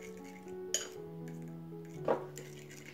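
A spoon clinks against a bowl while spicy tuna sauce made from canned tuna is stirred, giving two distinct clinks over a steady soft tonal background.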